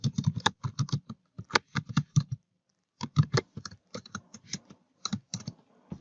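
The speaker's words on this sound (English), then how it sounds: "Then you type in your social security number in here and you type in the security question." Typing on a computer keyboard to fill in an online bank account sign-up form, quick bursts of close, crisp key clicks separated by short pauses, with no voices.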